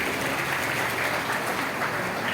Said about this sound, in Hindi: जोरदार ताली बजाइए सबके लिए।